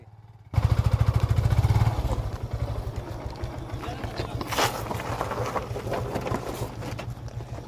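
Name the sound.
motorcycle riding on off-road trail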